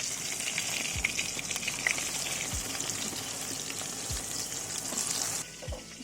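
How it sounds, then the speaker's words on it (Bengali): Eggplant pieces dropped into hot oil already used to fry hilsa fish, sizzling steadily and densely throughout, with a few soft knocks from the pan and no talk. "মাছ ভেজা তেলের মধ্যে বেগুনগুলো ছেড়ে দেবো।"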